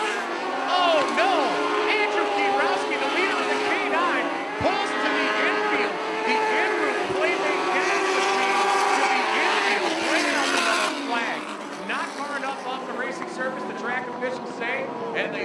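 Mini sprint race cars roar around a short track at a racing event, a dense continuous wall of engine noise with overlapping revving from several cars passing, loud and near throughout.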